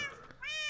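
A Minecraft cat gives a short two-part meow, close and clear, rising into a bright sustained tone over a quiet background.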